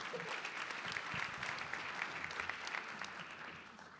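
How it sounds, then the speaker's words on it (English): A round of applause from an audience at a formal US–Colombia free trade agreement anniversary event, with steady crowd clapping, fairly quiet and distant, sustained evenly throughout and tapering slightly at the end. "a big round of applause for them"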